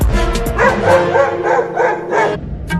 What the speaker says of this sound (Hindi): लगता है अब ये कुत्ता हमें काटेगा। देख भौंक रहा है